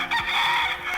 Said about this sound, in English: uh-oh, there's the rooster crowing